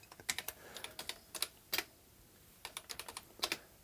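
Someone types on a Sinclair ZX Spectrum +2 keyboard that is not properly connected, making quiet clusters of quick, clicky keystrokes with short pauses between bursts, close by and alone.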